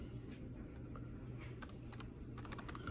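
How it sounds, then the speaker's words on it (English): Several quick taps on the keypad of a standard handheld radio while typing an APRS message. Faint, close clicks come in two short bursts over a quiet room hiss. "Let's see if I can type right this time."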